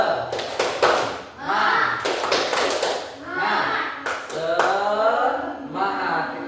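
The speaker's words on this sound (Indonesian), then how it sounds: "Ayo tepuk semangat, ayo." A class of Indonesian students stands and performs the tepuk semangat clap chant, with bursts of sharp group claps in quick patterns between shouted chanting voices, fairly close and lively.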